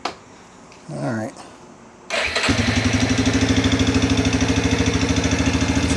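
A Yamaha Big Bear 350 quad that sat for years cranks with a brief whirring starter, then fires up and settles into a loud, close, rhythmic idle thumping steadily to the end.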